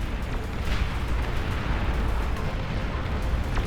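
Beyond All Reason strategy game battle with a unit firing final shots beside rising lava, a dense continuous rumble of explosions and booming artillery, loud and sustained without pause.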